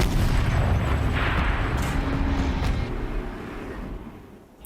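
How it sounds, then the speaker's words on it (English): A turret in the video game Horizon Zero Dawn fires with a heavy booming blast, its rumble and roar rolling on for several seconds and slowly fading, with no voices over it. "Rotate turret! And fire!"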